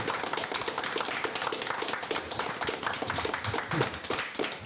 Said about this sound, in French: Applaudissements dans la salle.